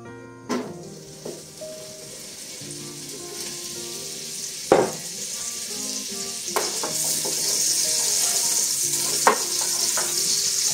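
Bacon sizzles in a spoonful of oil in a pot, the frying hiss building steadily louder while a few sharp clinks and knocks of a utensil on the pot ring out.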